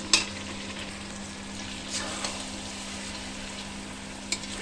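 Meat being dry-fried (kosha) in a pan, nearly dried out, for a large batch curry: a steady close sizzle with a low constant hum beneath, a couple of faint spoon scrapes, no talk.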